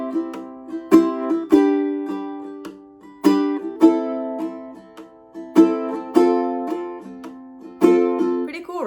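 Ukulele strumming with percussive chops and accented strums, ringing chords in a steady, fairly loud pattern with sharp emphasized hits recurring about every second, played alone without voices.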